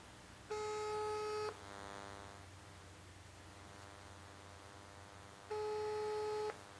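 A telephone ringback tone on an Alcatel-Lucent 4029 digital office phone sounds twice, each burst about a second long with a long pause between, over faint background hiss.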